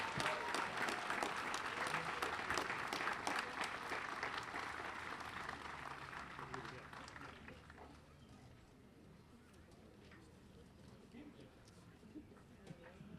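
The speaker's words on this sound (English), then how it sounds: "Let's have another big round of applause." Big round of applause from a concert audience at a municipal band evening for a singer, dense and sustained clapping at first, then thinning and fading over the last several seconds.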